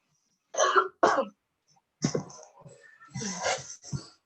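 Several close, harsh coughs come in short bursts, two quick ones then a longer rough fit, with silence between.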